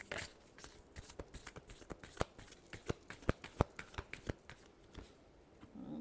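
Tarot cards are shuffled by hand with quick, close riffles and flicks that form a rapid, uneven burst of sharp papery snaps lasting several seconds, with no talking.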